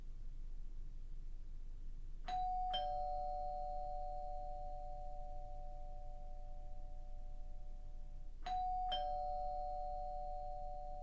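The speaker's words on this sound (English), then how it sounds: "the doorbell rang and rang" A doorbell rings twice, each time a quick pair of bright chimes with a long ringing tail, the two rings about six seconds apart over a low steady hum in a quiet house.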